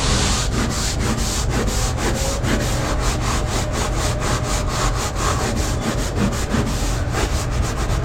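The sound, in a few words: scrubbing non-skid boat deck with a hard bristle brush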